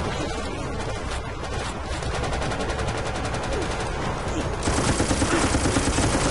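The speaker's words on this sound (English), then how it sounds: "I got the assault rifle. Open fire." Sustained automatic assault-rifle fire in the Resident Evil: ORC video game, a dense rapid stream of shots that runs continuously and grows louder and harsher toward the end.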